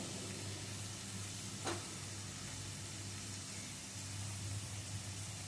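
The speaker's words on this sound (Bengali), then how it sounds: "এখন মশলাটা মিনিট তিন চারেক ধরে কষিয়ে নিতে হবে লো টু মিডিয়াম স্টিমে" Spice paste for gathi kochu (taro root) rosha sizzles in a pan over low to medium heat, a faint, steady hiss with a single short scrape partway through.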